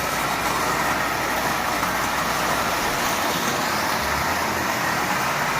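A Marx 999 tin toy train engine with an eight-wheel tin litho tender pulls 14 tin litho cars, making a steady, unbroken whirring rattle that stays close and even throughout.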